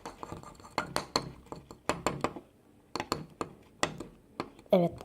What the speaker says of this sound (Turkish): Şekeri bir karıştırıyorum.